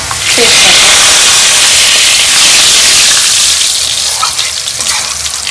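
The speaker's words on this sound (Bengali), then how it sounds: "ফোড়ন দিচ্ছি গোটা সাদা জিরে" Whole white cumin seeds temper in hot oil, giving a loud, dense, continuous sizzle close by that holds steady throughout.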